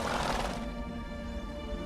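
A horse in a video game gives a short, loud whinny that fades into a quieter, tonal tail, heard alone without talk.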